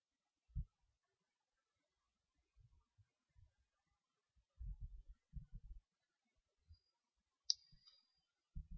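Mouse clicks on a Windows 7 computer, a handful of soft, dull clicks and taps spaced irregularly in an otherwise very quiet room, with one brief high chime-like blip.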